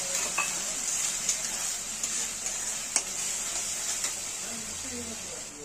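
Capsicum and onion are stirred in a hot pan, a steady sizzle broken by a few light spatula taps against the metal, close-up and fairly even.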